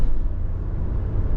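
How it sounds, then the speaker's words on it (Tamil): A Nissan Tekton with a 1.0-litre turbocharged engine and manual gearbox drives along a highway, giving a steady, loud low rumble of engine and road noise throughout, with no talking. "அந்த டர்போ சவுண்ட் சூப்பராக கேட்குது."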